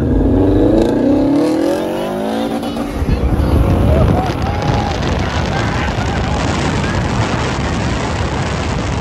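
A Subaru STI accelerates hard in a street race against a Mercedes-Benz CLA 45 AMG: a loud, close engine climbs in pitch, then gives way to a roaring, rushing blur of engine and road noise.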